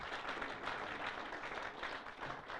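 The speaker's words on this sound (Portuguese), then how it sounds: "Vamos dar um aplauso enquanto estamos de pé." Church congregation applauding while standing, a dense, continuous wash of clapping that fills the room at a fairly low, even level.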